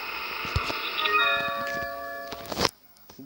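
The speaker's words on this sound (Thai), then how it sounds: "เพราะเสียงกระดิ่งมันดังขึ้นนะครับ" A church bell rings in the Resident Evil 4 video game, a single resonant clang with a ringing tail, followed by a few soft clicks.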